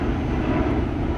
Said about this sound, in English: There are planes flying out of here.